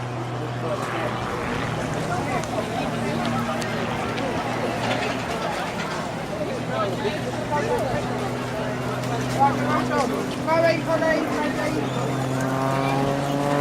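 A Pitts S2S biplane roars through an aerobatic display at the Clacton air show, its engine drone droning steadily at a distance beneath continuous commentary from a speaker.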